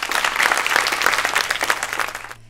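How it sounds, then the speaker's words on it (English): A crowd claps at a country show ring, dense steady applause from many hands for about two seconds before fading out abruptly. "the crowds clapped for them"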